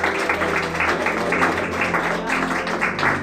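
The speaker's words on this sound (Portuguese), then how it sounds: "Louve ao Senhor com as palmas" A church congregation claps hands in praise during a worship service, a steady dense rhythm of many palms filling the room with a faint voice underneath.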